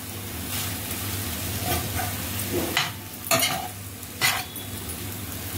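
Chavli (cowpea) leaves cook in an open pan with a steady sizzle and intermittent stirring scrapes, close and moderately loud, with no talk.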